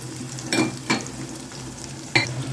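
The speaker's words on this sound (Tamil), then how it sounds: "வெங்காயம் நல்லா வதங்கணும், அப்போ தான் நல்லா டேஸ்ட் இருக்கும். நல்லா வதக்கிக்கோங்க." Onions, garlic and green chili sizzle in a frying pan under steady frying hiss, with a few quick clinks and scrapes as they are stirred.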